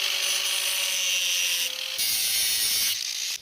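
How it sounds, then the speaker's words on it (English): A flap disc on an angle grinder smooths the cut edge of an exhaust pipe with a loud, steady, close grinding hiss. The pitch drops briefly near the end before the grinding cuts off. "I used a flap disc on the grinder to clean up the edge here and make this nice and smooth"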